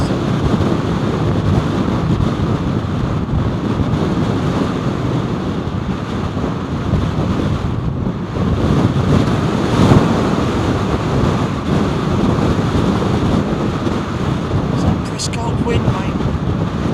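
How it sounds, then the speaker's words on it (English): Strong wind buffets the microphone at RAF Lakenheath airfield, a loud, continuous roaring rumble that never lets up through the whole stretch. "Wind, mate."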